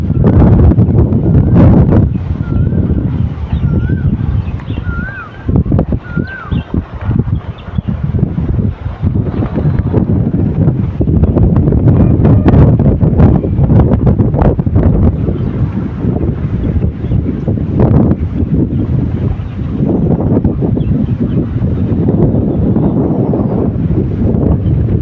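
Strong gusting wind on the rooftop of an ashram in Surat, roaring loudly and continuously into the microphone as a heavy buffeting rumble that never lets up for the whole stretch.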